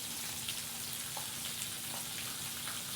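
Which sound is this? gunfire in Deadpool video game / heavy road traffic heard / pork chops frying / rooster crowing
pork chops frying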